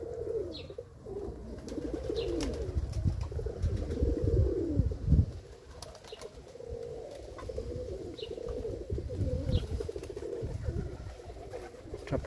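A large flock of pigeons in a loft coos steadily, overlapping low throaty calls forming a continuous near murmur with occasional wing flutters and soft chirps throughout.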